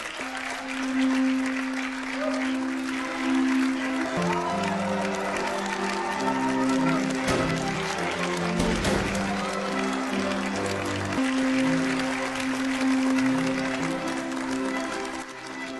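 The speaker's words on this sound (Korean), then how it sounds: "내빈 여러분은 모두 일어나셔서 신랑 신부에게 축하의 박수를 보내주시길 바랍니다" Guests at a wedding ceremony applaud the bride and groom in a long, steady burst of clapping lasting about fifteen seconds, heard under a sustained musical accompaniment.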